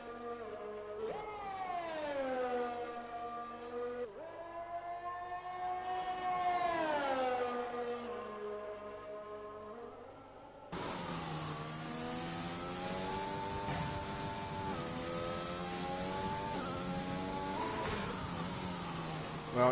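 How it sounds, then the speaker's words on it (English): A Formula 1 car in a racing video game on the Spa-Francorchamps or Portimao circuit, its turbocharged engine whining loudly as the pitch climbs and drops through acceleration and gear changes, continuous and close for the whole stretch. "you can hear the turbo of the car"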